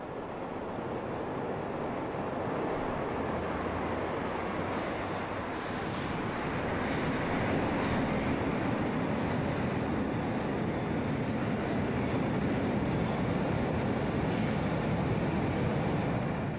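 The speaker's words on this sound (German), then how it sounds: "Der historische A2-Zug ist auf dem Rückweg nach Ruhleben. Der Zug rollt im normalen Fahrgasteinsatz." A historic Berlin U-Bahn small-profile type A2 subway train rolls in regular passenger service, a loud, continuous rumble and rushing noise with faint wheel squeals, steady throughout.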